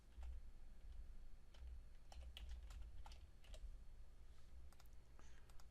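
Typing on a computer keyboard while entering a folder name: a steady run of light, close key clicks with short pauses over a faint low hum, and no talking.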